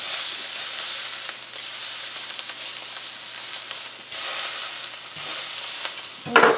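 A seasoned steak sears in a hot pan with a steady, loud sizzle and crackle that runs unbroken, then swells briefly near the end.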